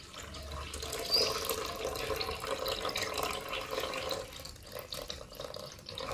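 Water runs from a tap in a home kitchen sink during washing, a steady close splashing rush that carries on without a break.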